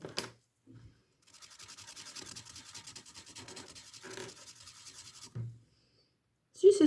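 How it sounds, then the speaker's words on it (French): Soft scratchy rubbing of coloring on a glitter canvas comes in short bursts and one longer steady stretch, quiet and close, with brief bumps between. "ça gratte, on entend quand je colorie"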